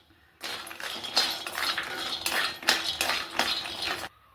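Almonds stirred while dry-roasting in a metal pan, a steady scraping and clinking of a metal spoon against the pan for about four seconds, close and fairly loud, with no voices.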